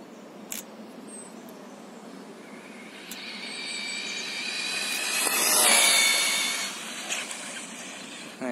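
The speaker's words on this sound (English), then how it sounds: "Now I'll just show you how fast it is going past at 52 mile an hour" A Tekno SCT410.3 RC short course truck on a 2S LiHV pack races past at about 52 mph outdoors, a high electric whine rising and swelling to a peak mid-pass, then fading, under steady background hiss.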